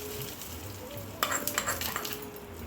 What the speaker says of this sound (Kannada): ಇವಾಗ ರುಬ್ಬಿಟ್ಕೊಂಡಿರೋವಂಥ ಚಟ್ನಿಗೆ ಒಗ್ಗರಣೆ